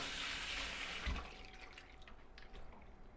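Tap water runs into a sink, rinsing pimento (allspice) berries for a curry goat head dish. A steady, fairly close faucet stream splashes, then softens into lighter trickling and drips toward the end.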